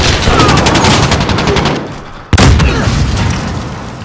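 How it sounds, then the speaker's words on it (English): Flashbang and gunfire in Call of Duty Modern Warfare: rapid automatic fire that dies away, then one sharp, loud bang followed by more bursts of shots. "Flash out!"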